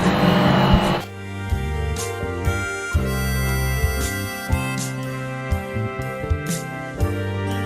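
A laser engraver set up with a rotary axis drives its Z axis down, producing a sustained tonal stepper-motor whine that shifts pitch in steps, with faint clicks and small knocks scattered through it.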